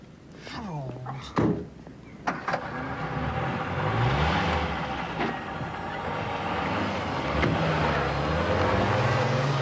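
A car door thunks shut a few times at close range, followed by a steady engine rumble of the car pulling away and driving, with a voice speaking briefly near the start.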